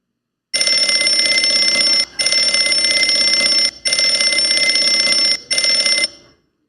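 Alarm clock ringing loud and close in four long electronic bursts, each broken by a short gap, before it stops.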